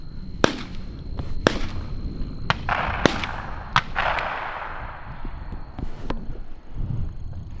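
Sharp shotgun blasts crack out during a dove hunt in a field, several loud reports spaced a second or so apart over a windy outdoor background, with ringing tails after each shot.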